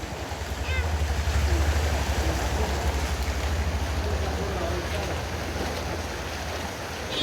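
A motorbike engine rumbles while floodwater on a rain-flooded road in Sakleshpur sloshes and splashes around it, with a broad wash of noise and wind across the recording.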